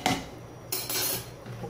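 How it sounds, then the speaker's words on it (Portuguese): Salts being stirred into detergent in a container, heard as a few sharp clinks and scraping knocks of a utensil against the container's side in quick succession, close and fairly loud. "Vou continuar misturando aqui meus sais."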